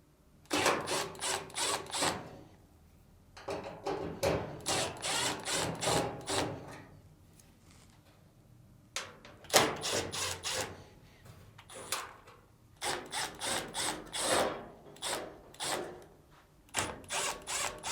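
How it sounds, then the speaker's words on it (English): A power screwdriver backs screws out of the upper frame plate of a Samsung dryer in several bursts of whirring drive, each a few seconds long, separated by short pauses. "Next, remove the screws on the upper frame plate."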